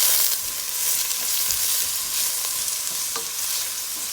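Pepper, garlic and green onions being stirred into spinach in a cooking pot, a steady sizzle with scraping stirs, close and continuous, no talking.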